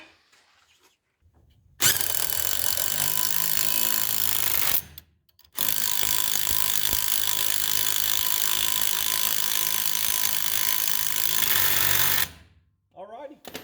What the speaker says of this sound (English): I ended up having to drill the other one too because it still wouldn't start.